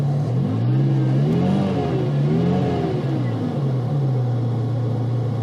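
A red 1989 Ferrari 328 GTB engine running steadily at idle, a loud, close, even hum with a couple of gentle revs rising and falling, and a faint voice underneath.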